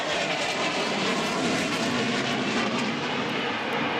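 Carrier-based military jet aircraft with folding outer wings roars overhead during a Fourth of July event at the Capitol, a loud, steady broadband engine rumble that fills the whole stretch with no talk.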